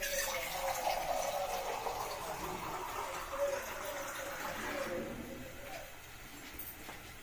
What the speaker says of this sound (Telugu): ఇప్పుడు వాటర్ పోసుకోవాలండి. చూడండి వాటర్.